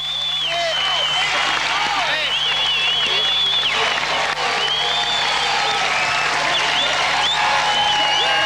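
Crowd at the X Games 1999 street skateboarding contest cheering and applauding a 15-year-old skater, a loud continuous roar with whistles and shouts, announcer talking over it.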